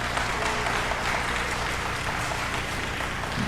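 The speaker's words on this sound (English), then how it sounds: "if you could give her a big round of applause," An audience at a school program applauds in a full, even wash of clapping that holds steady throughout.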